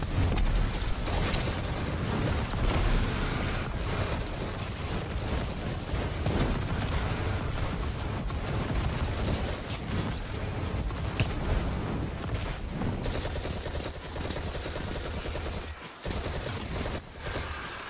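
Dense Destiny 2 gunfire fills the scene with repeated grenade explosions, Monte Carlo exotic weapon in use during multi-kill combat; loud and continuous throughout with constant bursts and booms and no clear pauses.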